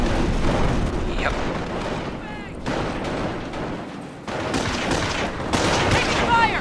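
Battlefield gunfire and artillery rumble continuously in Company of Heroes, with dense rifle and machine-gun bursts and heavy booms, loud and chaotic, with soldier voices shouting over the combat.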